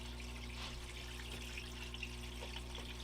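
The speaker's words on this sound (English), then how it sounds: "let's fire this up. You can see sluice is running smooth and nice." Steady rush of water running through a gold-prospecting sluice, a continuous even flow with low mechanical hum from a pump underneath, no talking.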